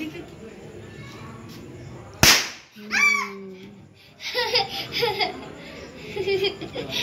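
A pull-string firecracker goes off with one sharp, loud pop during Kali Puja celebrations, with people laughing and talking before and after.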